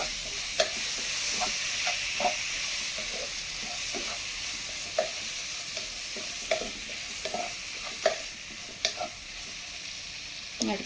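Tomatoes and green chillies sizzle in hot oil for chicken curry, a soft continuous frying hiss broken by repeated clinks and scrapes of stirring at an irregular pace.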